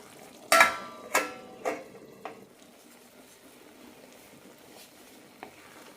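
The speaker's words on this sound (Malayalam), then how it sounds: "ഇനി ഇതിലേക്ക് റവ ഇടാം നന്നായി മിക്സ് ചെയ്യാം" Semolina is stirred into ghee-roasted vermicelli in a pan with a few distinct scraping strokes, sharp at first and then softening, over a quiet background.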